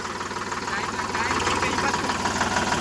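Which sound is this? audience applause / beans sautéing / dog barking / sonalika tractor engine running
sonalika tractor engine running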